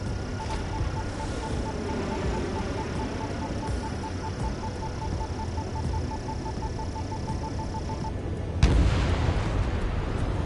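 Bombs burst on anti-air radar vehicles in an Ace Combat flight game, a sudden loud boom near the end over a constant jet engine drone with a repeating beeping tone.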